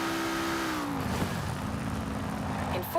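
A car engine in the racing video game Forza, with an eight-gear transmission, drones in a steady, harmonic-rich hum. Its pitch dips and resettles midway, and a voice speaks faintly over it.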